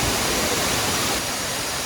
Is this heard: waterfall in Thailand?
yes